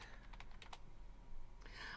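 Keys clack on a new computer keyboard in a quick, irregular run of close taps, with a short pause before a final burst, quiet and with no voices over it.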